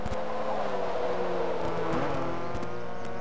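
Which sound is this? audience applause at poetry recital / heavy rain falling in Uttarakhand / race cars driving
race cars driving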